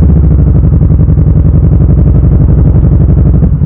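A motorcycle with a huge, loud exhaust idles close by, its steady rapid thump pulsing evenly throughout, with no other sound above it.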